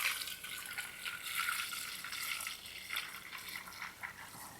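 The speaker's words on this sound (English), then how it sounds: "Let's pour this brand new gasoline through the water separator" Fresh gasoline pours steadily through a water separator and cleaner while fixing a no-start Troy-Bilt mower with a Honda engine, a continuous soft liquid trickle and splash heard close and alone.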